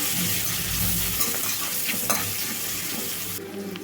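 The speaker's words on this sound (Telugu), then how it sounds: "చూడండి ఉల్లిపాయలు ముక్కలు వేసిన తర్వాత ఒక్క నిమిషం పాటు ఇట్లా వేపుకున్న తర్వాత" Onion pieces frying in a pan with salt and turmeric, a close steady sizzle with scraping stir strokes and occasional clinks throughout, without speech.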